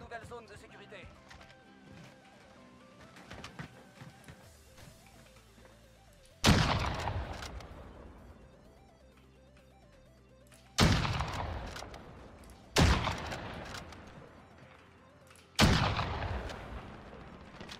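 Four loud, sharp gunshots ring out at irregular intervals in a Warzone match, each with a booming, decaying tail, over quieter game ambience.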